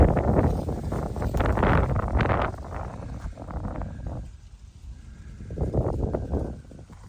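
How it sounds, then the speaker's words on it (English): Gusty wind in North Carolina buffets the microphone in loud rumbling bursts, easing briefly before rising again, with a faint rustle in the background. "Windy day"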